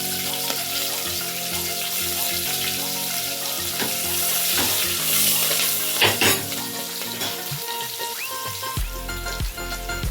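Cumin, curry leaves and cut green chillies go into a hot pan for tomato saaru and sizzle loudly and continuously, with stirring scrapes and a brief louder burst near the end.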